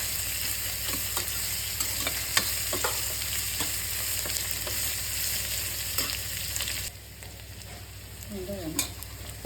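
Ingredients for meal maker tomato rice sizzle and fry in a pan while a spoon stirs, steady close crackling with intermittent scraping taps, quieter toward the end.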